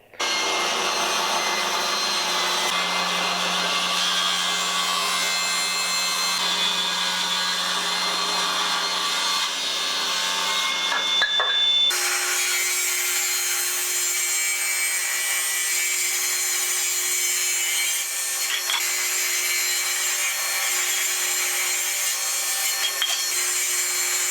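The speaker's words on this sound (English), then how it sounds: "let's go ahead and rip 3 pieces of maple" Table saw ripping maple boards into 2-inch strips, a loud continuous whine of the blade cutting wood, with a brief dip and shift in pitch midway as one cut ends and another begins, close and without talk.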